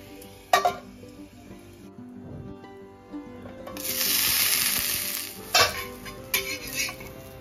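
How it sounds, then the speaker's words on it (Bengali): Burger patty lowered into hot oil to fry, bursts of sizzling and spattering with clinks of a pan and utensils, a loud steady crackle swelling mid-way then fading. "এবার তেলের মধ্যে ছেড়ে দিলাম, আঁচ কমিয়ে ঢাকা দিয়ে এপিট ওপিট ভেজে নেব।"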